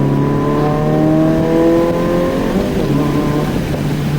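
Toyota GR86 sports car engine revving up through one gear, a steady loud drone that climbs in pitch over a few seconds, alone without talk.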